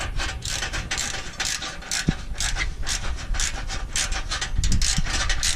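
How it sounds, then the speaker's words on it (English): A ratchet clicks in steady rapid strokes while tightening the header to the mid pipe on a 2005 Nissan Sentra SE-R Spec-V, close and moderately loud with a few sharper metallic knocks. "we're just finishing up tightening the header with the mid pipe"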